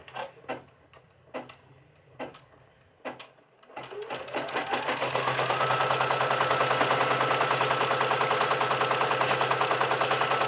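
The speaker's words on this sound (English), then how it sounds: "So the first thing that I'm going to do is do this placement stitch." An embroidery machine stitches a placement outline for an in-the-hoop Valentine treat bag, starting with a few scattered clicks, then settling into a loud, steady, rapid needle rattle that runs continuously for several seconds.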